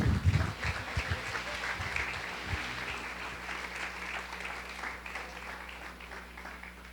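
A church congregation claps together, loudest at the start and gradually thinning into scattered applause with a low hum underneath.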